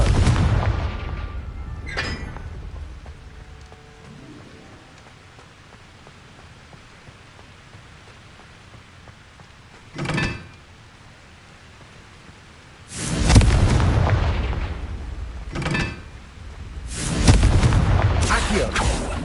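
Confringo blasting spell explosions in the video game Hogwarts Legacy, several deep, booming blasts with rumbling tails, one around the middle and a cluster toward the end, loud against a quiet hissing background.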